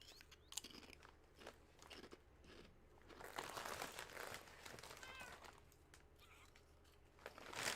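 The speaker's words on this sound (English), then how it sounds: "Just eating a chip." Crunchy chips are bitten and chewed close by, with several sharp, crisp crunches over a quiet indoor background and faint rustling.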